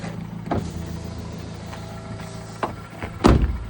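Electric windows on a Vauxhall Corsa with a 1.2 timing-chain engine whir in short motor runs, ending with a louder thump as the glass seats, close and inside the car.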